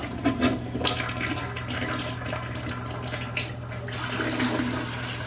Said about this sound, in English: Kind of slow to flush.